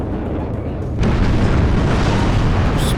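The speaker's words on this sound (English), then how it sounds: "See that explosion." A shot-down MiG bursts apart in the real-time strategy game WARNO, a loud sudden boom that erupts after a quieter second and then rumbles on densely to the end.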